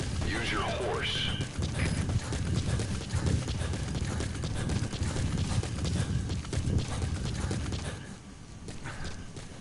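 Hoofbeats of a horse in the video game Metal Gear Solid 3: Snake Eater, a continuous clip-clop rhythm over game ambience and a brief whinny-like cry near the start, with voices talking throughout.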